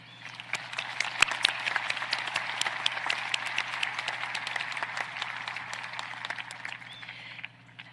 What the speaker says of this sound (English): While she could not be here today, I would like us all to have a round of applause to honor Ms. Beth Lawson